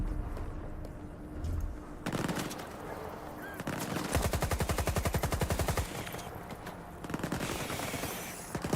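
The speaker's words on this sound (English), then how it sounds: "I have a feeling I have to shoot the white rat there." Rapid gunfire from a weapon in S.T.A.L.K.E.R. 2 shooting at rats, with bursts of automatic shots separated by short pauses, loud and close, a sustained rattling volley in the middle.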